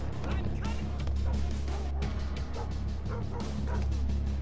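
Repeated barking and yelping from a dog in the video game Thief (2014), loud and close over a dense bed of game noise and background sound, with talking mixed in.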